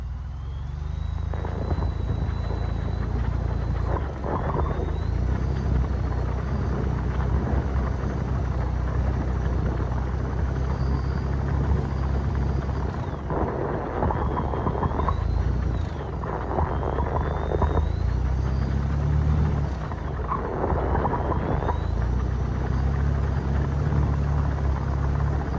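Truck with a 2.7 liter engine on Yokohama X-AT tires, its engine rumbling steadily under light throttle while the tires slip and spin, a continuous close drone with surging bursts.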